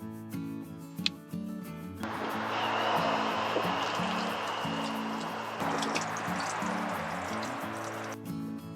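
Grey water from shower and dish washing draining out of a camper van tank onto a service-area grate, a sudden rushing splash that starts abruptly, runs steadily for several seconds and then stops, heard faintly beneath background music.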